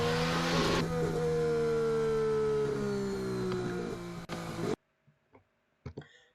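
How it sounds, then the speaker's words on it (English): A Formula 1 race car screams close by, its high engine note sliding steadily down as it passes a crashed car on track, then cuts off abruptly, leaving near silence with a few faint knocks. "this is Fernando Alonso passing Latifi's car on that lap just after the incident"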